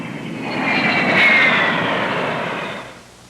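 A Convair F-102 jet fighter roars past, swelling from a distant rumble to a loud broadband whoosh with a high whine near the middle, then fading away over about three seconds.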